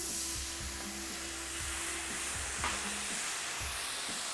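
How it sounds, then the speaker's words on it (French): Hot pan with melted butter sizzling and hissing steadily as vinegar deglazes it, a duck and mango dish underway, with faint stirring scrapes through a continuous close frying noise. "faites glacer avec un peu de vinaigre."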